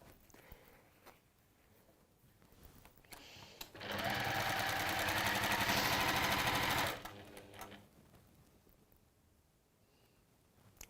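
Sewing machine stitching down a fabric seam, a steady, close whirring burst of about three seconds that starts and stops abruptly, with quiet handling noise before and after.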